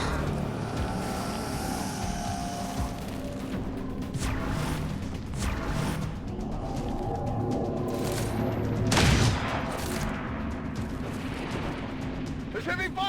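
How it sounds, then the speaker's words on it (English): Heavy gunfire rattles in bursts through a battle in XCOM 2 Long War 2, with scattered blasts and crashes over a busy, rumbling backdrop. "There's heavy fire in this zone."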